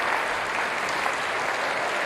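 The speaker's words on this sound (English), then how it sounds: "having the orchestra stand to a rousing applause here" Sustained, dense applause from a large outdoor audience at the Sidney Myer Music Bowl in Melbourne as the Melbourne Symphony Orchestra stands after a performance, steady and even throughout with no talk over it.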